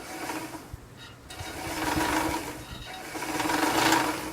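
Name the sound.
metal sewing machine winding a bobbin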